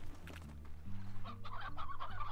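A chicken clucks in the Slime Rancher video game, a short run of throaty calls over a low steady background hum, with no talk.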